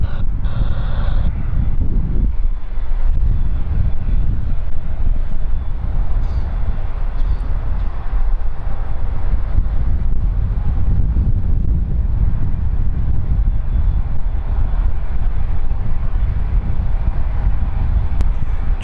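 Distant, steady rumble of a Dash 8 turboprop aircraft inbound on final approach at London City Airport, a broad wind-blown drone with no talk.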